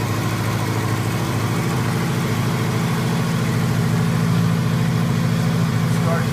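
A 1984 Honda Goldwing Aspencade 1200 motorcycle idles after a cold start, a steady close, loud engine rumble that holds even throughout.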